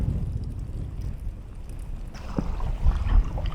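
Gusty wind blows outdoors at a landscape photography spot, a steady low rumble of buffeting that grows stronger in the second half, with no talking heard.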